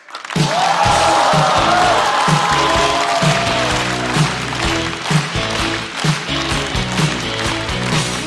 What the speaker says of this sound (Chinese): 掌声欢迎邱瑞